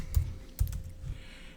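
A few separate keystrokes on a computer keyboard while someone writes iOS Swift code: three distinct clacks at an uneven pace, then a quiet tail.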